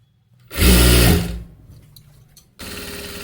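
A sewing machine stitches a puff sleeve in one loud, close burst of running, which trails off and then resumes steadily near the end.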